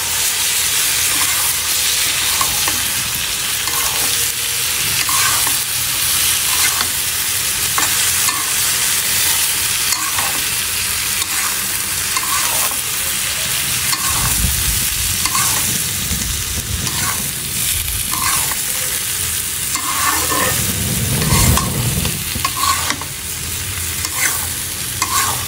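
Fish fries in a pan with a constant loud sizzle and crackle, broken by repeated stirring and scraping strokes of a utensil throughout, with no voices.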